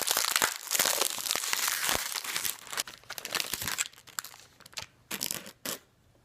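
Crinkling plastic wrapper of a Crunchie honeycomb chocolate biscuit being torn open, close and loud, with repeated crackling and rustling bursts that thin out into sparse crinkles toward the end.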